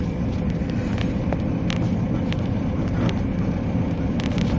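A car creeps along a road through thick fog, its engine and tyres giving a steady, unbroken low rumble with a few faint high ticks and no voices.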